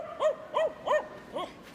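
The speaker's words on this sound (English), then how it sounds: "Working Cocker Spaniel." Four quick, high-pitched barks from a Working Cocker Spaniel at the Crufts dog show, evenly paced and fairly close, with the last one softer.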